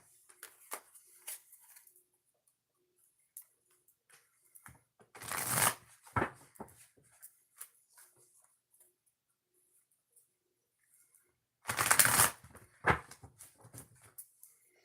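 A deck of oracle cards is shuffled twice, each a brief loud riffle of crisp rapid flutters, separated by quieter handling taps and soft shuffling.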